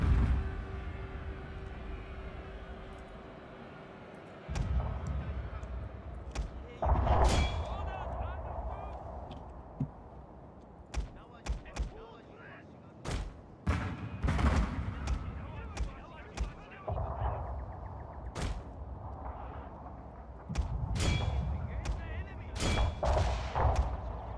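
Musket volleys and howitzer fire from a Fall of the Samurai battle in Total War: Shogun 2, sharp gunshot cracks and heavy booms scattered irregularly throughout, loud and close, over a rumbling battlefield bed with talk alongside.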